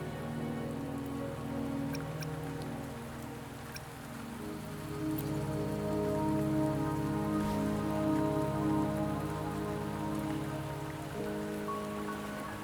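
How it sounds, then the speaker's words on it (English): Rain pours steadily in the video game Wuthering Waves, a constant patter of drops with low ambient tones beneath it that swells gently midway, and no one speaks. "Don't worry, the rain won't last much longer."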